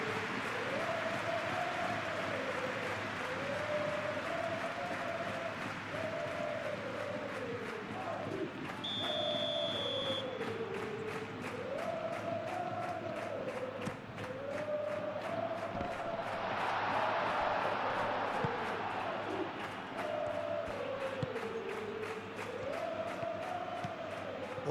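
A stadium crowd in the FL 26 football video game roars steadily at a Real Madrid vs. Celta Vigo La Liga match, with rising and falling chant-like swells and drum beats under a continuous din.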